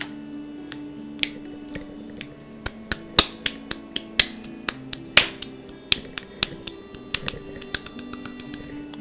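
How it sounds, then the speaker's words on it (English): Sharp, isolated claps or snaps in irregular sequence, about twenty crisp hits over several seconds against a faint steady tone, close and dry with no voices. "It's me clapping"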